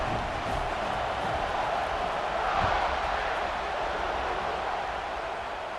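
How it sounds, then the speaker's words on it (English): Steady crowd roar from a stadium in the EA Sports College Football 26 video game during a tight late-game moment, a dense continuous hum of fans with a slight swell midway. "this crowd is buzzing after that last score"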